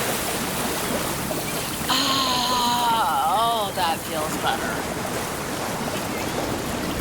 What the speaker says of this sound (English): She steps into the water and lets the waves wash over her.